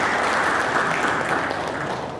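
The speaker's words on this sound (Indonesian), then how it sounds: "Kita tepuk tangan." Audience applause fills a focus-group discussion hall of lecturers and students on Pancasila and social justice, a dense, steady clapping held at even loudness for about two seconds with no voices.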